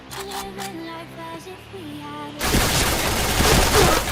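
Point Blank video game gunfire erupts halfway through as a dense, loud burst of rapid shots, following a stretch of tonal game sounds and background noise.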